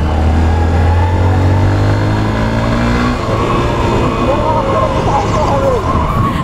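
A Hero Hunk motorcycle engine roars up close with throttle pulls and rising revs, the pitch climbing then settling, while someone talks over the engine noise.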